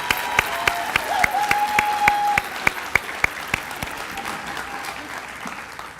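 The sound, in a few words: applause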